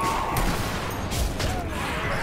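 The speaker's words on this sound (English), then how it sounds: "I just shot one in the body." Gunfire in the zombie shooter Zombie Army Trilogy: a dense, continuous burst of game shots and impacts that stays loud and steady throughout, with no clear gap between reports.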